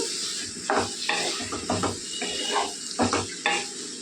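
A brinjal and tomato curry is stirred in a pan, giving a close, soft sizzle broken by repeated scraping strokes and light knocks of a spoon against the pan.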